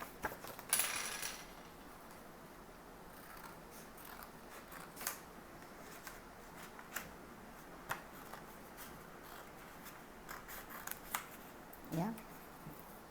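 Scissors snip thin cardboard paper for a craft flower, faint sparse clicks and cuts spread out over a quiet background, with a louder rustle near the start.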